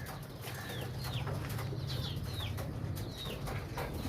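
Pigeons kept for kabootar bazi coo and chirp, with several short calls scattered over a steady low background hum. No one speaks.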